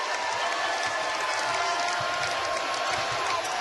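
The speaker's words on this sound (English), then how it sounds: "listen to this crowd" Dense, steady roar of a packed basketball arena crowd cheering and applauding during a close Towson Tigers game against Temple, sustained and loud throughout with no pauses.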